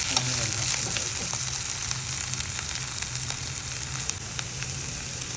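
Prawns frying in coconut oil for a pickle, a steady bright sizzle with scattered crackles and pops, fairly quiet and continuous, with no talking.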